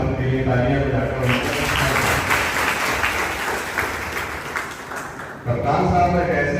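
Audience applause for the Rampur district police chief at a college event, a dense sustained wash of clapping lasting several seconds before voices and ambient room sound return.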